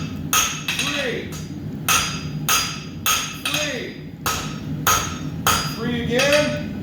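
A hammer strikes a square steel bar on an anvil in a steady rhythm of about a dozen loud ringing blows, close up, with a voice talking faintly between strikes.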